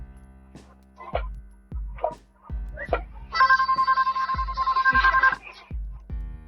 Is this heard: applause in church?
no